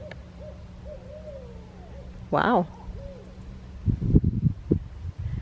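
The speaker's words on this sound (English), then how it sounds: "We have some owls that are talking to each other." Owls hoot back and forth in daytime at a historic outdoor site in Sarasota, Florida, soft wavering calls with one louder, closer hoot, followed by people talking nearby.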